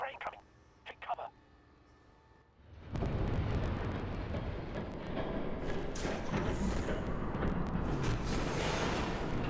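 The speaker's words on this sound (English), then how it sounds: "There's a train coming." Train passing in Batman: The Telltale Series: a low, dense rumble comes in suddenly after a few quiet seconds and stays loud and continuous to the end. Brief voice-like sounds are heard before it arrives.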